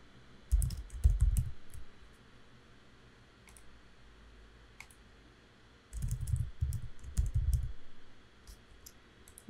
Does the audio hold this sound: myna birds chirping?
no